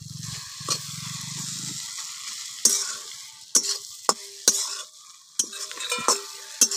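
Chillies tossed into a hot frying pan and stirred, with a steady frying hiss and a series of sharp spatula knocks and scrapes against the pan, close by.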